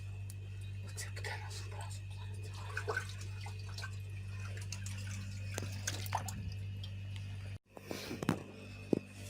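Water poured over hands outdoors during a Ukrainian wedding korovai-baking ritual, soft trickling and splashing under murmured voices and a steady hum, with a few sharp knocks toward the end.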